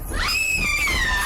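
A woman's high, sustained scream in a horror story, one drawn-out wavering cry held over about a second against a dense background.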